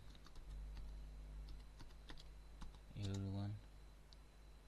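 Light, scattered keystrokes on a computer keyboard as text is typed into an HTML paragraph, quiet irregular clicks over a low hum, with someone briefly speaking partway through.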